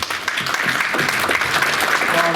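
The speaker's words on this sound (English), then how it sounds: "let's give a big round of applause to our lovely fella here" A warm round of applause from a small café audience greeting an interview guest, fairly close and continuous, with faint voices underneath.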